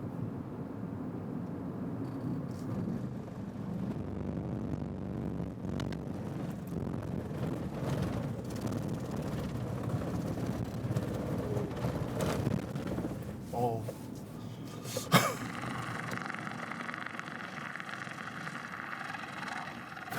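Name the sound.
Hyundai Casper 1.0 turbo interior noise driving at 50 km/h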